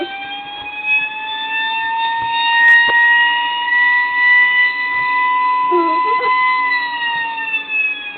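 A custom 1:32 Code 3 Seagrave FDNY pumper fire truck model sounds its federal-style electronic siren, a steady high wail that slowly rises and falls, loud and close, with a faint voice briefly underneath.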